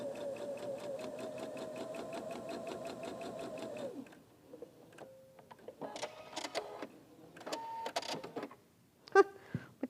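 Sewing machine stitching a straight line while piecing half-square triangle quilt blocks, a steady close rhythmic whirring buzz for about four seconds, then stopping, followed by quiet handling clicks and rustles.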